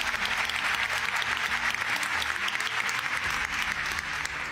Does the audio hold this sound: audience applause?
yes